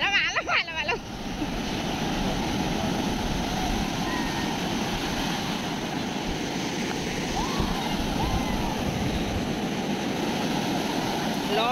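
Sea surf at Puri beach roars as a steady, broad wash of breaking waves, loud and continuous for the whole stretch, with a brief burst of voices at the start before the surf takes over.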